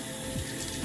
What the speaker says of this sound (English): I'm going to go ahead and run me some warm water